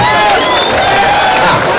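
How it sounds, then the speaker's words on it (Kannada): A large outdoor crowd at a sugarcane farmers' protest cheering and shouting together in a loud, continuous roar, brief and close. "ಎಲ್ಲರೂ ಸಹಕಾರ ಕೊಡಿ ಜೋರು ಚಪ್ಪಾಳೆ ಹೊಡಿ"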